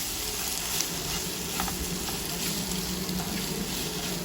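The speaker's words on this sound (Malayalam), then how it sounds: "ഉള്ളി നല്ലതുപോലെ വഴന്ന് വരുന്നുണ്ട്." Onions sautéing in a pan for butter paneer masala, a steady, continuous sizzle heard up close without a break.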